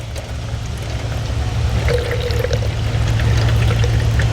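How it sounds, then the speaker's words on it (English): Eight ounces of water poured to simulate rain over a small model landscape, a continuous splashing trickle that grows slightly louder and fuller as it goes on, with a low steady hum underneath. "I'm going to make it rain again for this. We have our 8 ounces of water."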